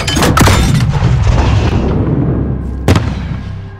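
A loud close explosion booms in a Call of Duty: Modern Warfare (2019) embassy battle and rumbles away over several seconds, followed by a sharp gunshot-like crack near the end.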